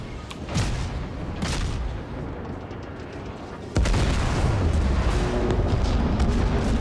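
Heavy naval gunfire from warships in World of Warships, featuring the cruiser Dresden: deep booming salvos roll over a continuous rumbling battle din, with a louder, denser barrage breaking in partway through.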